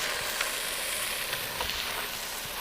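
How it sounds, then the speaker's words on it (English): Food sautéing in a deep saucepan on an indoor stovetop gives a steady, fairly quiet sizzle with a few faint clicks of stirring, and no voices. "I am just going to saute this"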